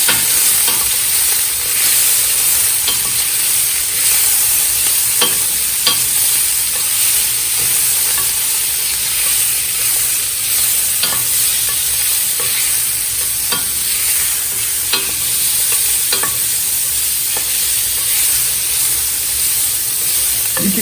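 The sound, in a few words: stirring food sizzling in a frying pan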